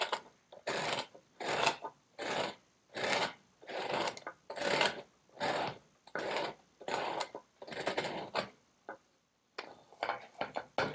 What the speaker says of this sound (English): Hold the grater in your subdominant hand, and with your dominant hand, grate the bread down.